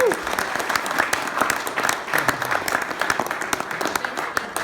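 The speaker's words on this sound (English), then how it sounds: "Give them a big round of applause." Moderate audience applause for a discussion panel at a social meetup, a sustained patter of many hands clapping at middle distance with no talk over it.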